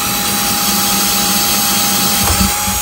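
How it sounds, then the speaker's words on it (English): Power drill boring drainage holes into a cast cement bonsai pot, a loud steady motor whine with grinding bit noise, close and continuous. "So you can drill several holes."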